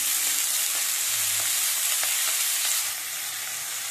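Barma shak greens frying in a pan, giving a steady, loud sizzle with faint stirring scrapes throughout and no talk.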